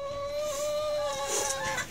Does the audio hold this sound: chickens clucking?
yes